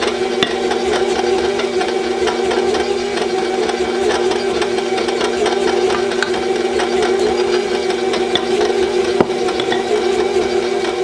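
An electric mixer beats old-fashioned nine-egg pound cake batter with white winter wheat flour, giving a loud, steady mechanical whir that holds unbroken for the whole stretch with faint rattling ticks.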